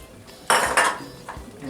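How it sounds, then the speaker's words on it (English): Emptied tomato sauce cans rinsed with a little water while cooking beef lasagna: water splashes and metallic can clinks in a short close burst, then softer knocks. "And then I just kind of rinse the cans to get the extra tomato sauce that's left"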